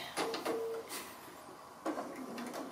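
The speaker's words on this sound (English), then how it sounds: "So just doing a free motion straight stitch just on the applique but close to the edge." A sewing machine runs a free motion straight stitch on an applique in two short whirring bursts separated by a pause, quiet and close, with no talking.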